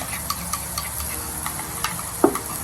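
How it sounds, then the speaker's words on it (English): Hamburger sauce being stirred with hot sauce and Tony's seasoning in a bowl, a steady soft scraping and swishing with a few light clinks of the utensil, close and alone without talk. "A little bit more Tony's. Mix it up a little bit more."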